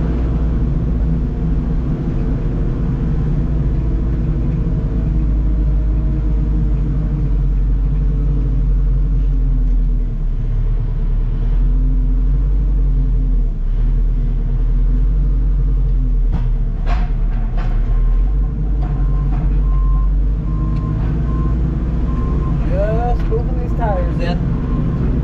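A loader's diesel engine idles and runs near a farm building, a loud, constant low rumble, with a few faint higher tones late on that could be reversing beeps, and someone talks over it.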